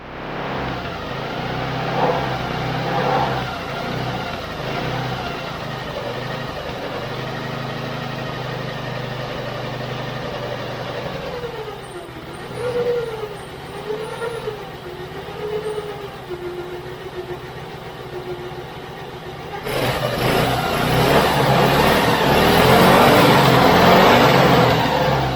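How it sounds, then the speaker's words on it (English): Small engine of an old abandoned go-kart, its fuel-air mixture screw adjusted, running steadily close by, with a few throttle blips midway and a louder, harsher rev toward the end. "After a few more turns of that fuel air mixture screw, I got it to run quite well now."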